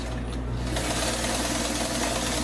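A vintage sewing machine with its original motor and belt runs continuously, a dense, even mechanical whir close by with no voices.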